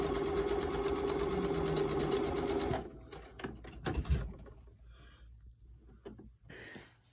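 A sewing machine runs fast and steady stitching a fabric face mask, a rapid mechanical whirr that stops abruptly, followed by quieter clicks and handling sounds of the fabric.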